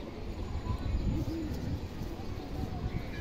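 Highflyer Indian kaldom pigeons coo softly in low, murmuring phrases, close by, with a steady background hum and no talk.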